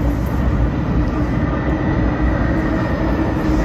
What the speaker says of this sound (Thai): รถรางมาพอดีเลย